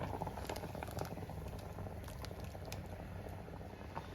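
Kerala-style ripe mango pulissery curry with coconut paste boiling in a pan, giving a steady close bubbling and popping simmer that continues without a break and with no talk.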